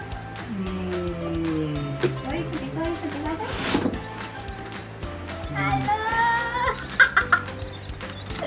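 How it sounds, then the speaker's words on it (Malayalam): Young chicks in four colours, bought from Coimbatore, peep and cluck in a small group close by, with repeated short chirps while people talk over them. "നാല് കളർ കോഴിക്കുട്ടി ഉണ്ട്"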